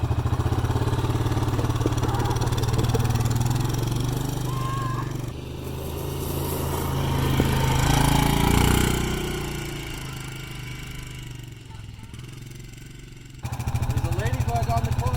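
A quad bike's engine runs steadily up close with a low, constant rumble, its pitch rising slightly midway before falling away, while people talk nearby over it.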